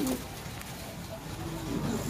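A pair of King pigeons coos softly in a loft, low throaty calls at close range against a faint background murmur.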